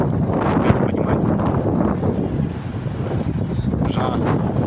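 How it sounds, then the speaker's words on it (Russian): Gusty wind in a park in Sumgayit buffets the microphone with loud rumbling bursts, rising and falling, while faint speech is partly audible underneath. "Ветер поднимается"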